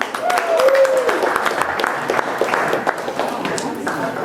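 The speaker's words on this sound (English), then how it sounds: "Everybody give a big round of applause for him." Wedding reception guests applaud a friend of the groom, a dense patch of clapping with a few cheers and chatter mixed in, fairly loud and continuous before tapering slightly.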